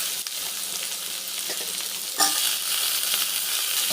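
Raw banana frying with tomato, garlic and curry leaves in a pan gives a loud, continuous hiss with faint stirring clicks and a sudden brighter flare partway through.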